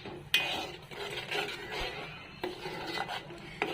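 Masala stirred and fried in oil in a pan, with soft sizzling under repeated scraping and rubbing of a spoon against the metal and a few sharp knocks.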